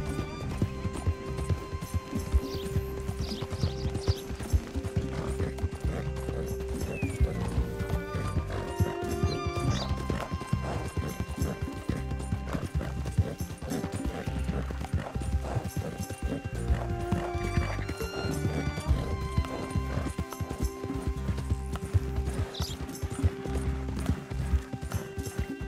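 A horse gallops in Red Dead Redemption 2, its hooves pounding in a rapid, continuous clip-clop with an occasional whinny, layered over dense game sound and music for the full stretch.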